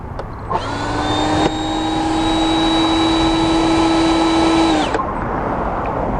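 The most powerful STIHL leaf blower roars close and loud. It holds a steady high whine for about four seconds before cutting off, with wind-like noise throughout.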